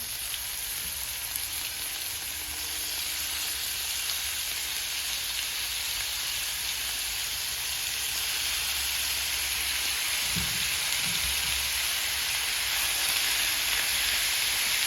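Thin steak pieces fry in a pan with a steady, bright sizzle and hiss that runs unbroken throughout, close and moderately loud with no talking.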